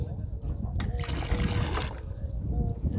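Water streams from a push-button drinking fountain at a dog park, a steady close trickle and splash that swells briefly in the middle before settling back.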